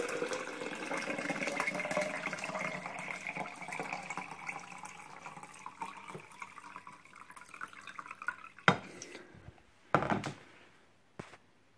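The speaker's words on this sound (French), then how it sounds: "je rajoute l'eau chaude dans le récipient" Hot water from an electric kettle is poured into a French press coffee maker, a steady rising filling gurgle for about eight seconds, then a few drips and clinks.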